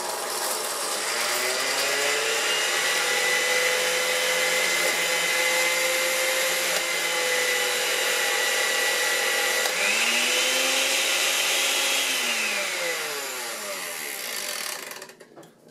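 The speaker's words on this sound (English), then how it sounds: "Let's hit the puree button" Food processor running on its puree setting, a loud continuous motor whine with a steady high-pitched tone that rises in pitch near the end before cutting off.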